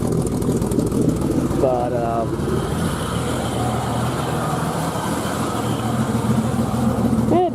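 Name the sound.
1990 Jeep Cherokee Laredo engine idling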